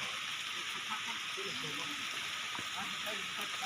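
Broad steady rush of the Pha Luang waterfall in Ubon Ratchathani, with a pool before the falls, continuous and fairly faint, with someone talking over it.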